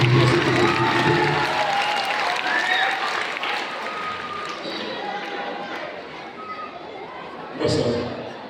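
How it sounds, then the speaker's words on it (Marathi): An audience at a comic bharud folk performance claps loudly and steadily, the applause fading slightly over time, with crowd chatter and a brief burst of noise near the end. "सदानंद सरांसाठी सरांनी जोरदार टाळ्या वाजवा"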